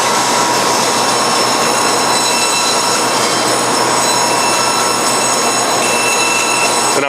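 A double blade bandsaw, model 2152, runs while cutting a workpiece, making a loud, dense, continuous roar with a steady high whine that holds evenly throughout.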